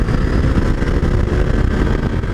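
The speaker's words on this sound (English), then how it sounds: "It revs up to the RPMs quick." A 2021 KTM 890 Adventure motorcycle engine revs hard and close, a dense, continuous roar that holds steady throughout with no voices over it.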